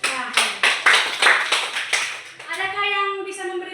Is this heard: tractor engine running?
no